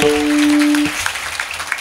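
An audience claps at a Marathi kirtan, a dense, steady patter of many hands, with a sustained musical tone held over the first part.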